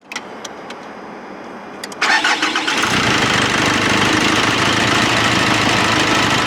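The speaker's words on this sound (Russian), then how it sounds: "А теперь заводим движок." A Nissan Pathfinder diesel engine cranks briefly and catches, settling into a loud, steady rumbling idle close by, with no voices.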